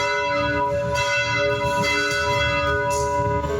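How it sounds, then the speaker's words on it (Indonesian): Bells of Jakarta Cathedral ring loudly and continuously, their overlapping tones sustained and resonant throughout, with no voices. "Gereja Katedral Jakarta membunyikan lonceng pada Sabtu sore 26 April"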